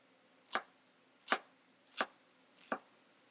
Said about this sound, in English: you cut again, and you have perfectly diced onions